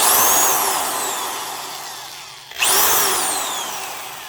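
A Skil half-inch electric drill whines at high speed, winding down, cutting out briefly, then revving up again and slowly spinning down; close and loud.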